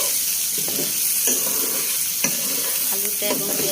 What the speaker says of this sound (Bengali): হলুদের গুঁড়া মরিচের গুঁড়া ভালো করে নেড়ে দেবো